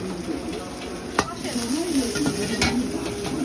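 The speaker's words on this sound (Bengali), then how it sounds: "পেঁয়াজ চলে গেল তেলের ভিতরে আজকে নতুন নতুন দোকানে গাজর" Onions and carrots fry in hot oil for egg chowmein, a constant sizzle broken by two sharp utensil clacks against the pan while a voice talks over the cooking.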